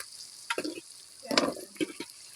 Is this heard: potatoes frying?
yes